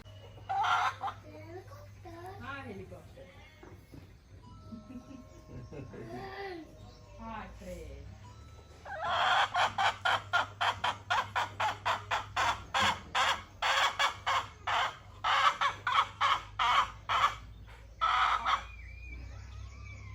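A hen in a village clucks in a rapid, steady run of loud bursts close by, after a stretch of people talking.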